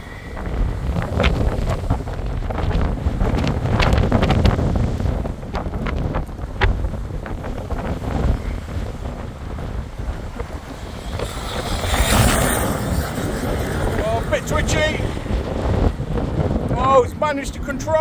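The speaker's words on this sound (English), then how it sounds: "It is extremely windy," Strong wind buffeting a microphone outdoors at an RC truggy speed run, a loud continuous rumbling roar with gusty swells, mixed with faint motor whine and occasional voices.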